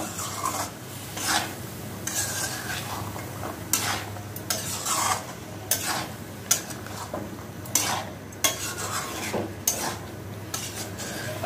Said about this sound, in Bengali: এখন আমি কাঁঠাল বিচিগুলো একটু হালকা ঝোলঝোল আছে এটার মধ্যে দিয়ে দিব, দিয়ে আমি বিচিটা ভালো করে কষিয়ে নিব।